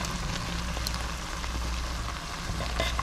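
Crushed tomatoes go into a simmering pot of Manhattan salmon chowder, producing a continuous close sizzle and bubbling hiss with faint stirring ticks.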